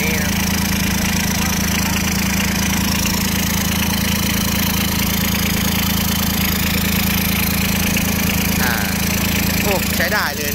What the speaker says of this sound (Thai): ไม่น่าจะมีเสียงเครื่องขนาดนี้นะ